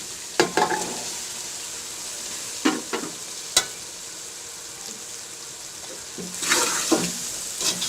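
Chickpeas frying in a pan with biryani masala, a steady sizzle under sharp utensil clicks and scraping stirs that come in scattered bursts, close by and with no talking.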